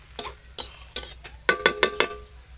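A spatula clatters and scrapes against a pan while shrimp and bottle gourd leaves are stir-fried, about eight sharp, close strokes in a quick uneven rhythm over a faint background hum, with no voices.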